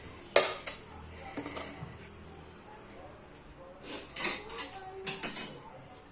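Coriander vadi batter being scraped into a tray makes sparse metallic clinks and scrapes from a spoon against a pan or tray. The sounds come in short clusters at close range and are quiet between hits, with soft background noise.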